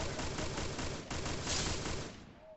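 Rapid gunfire in the mobile shooter Free Fire during a live match, a dense steady stream of shots at close range that trails off in the final half second, with no talking over it.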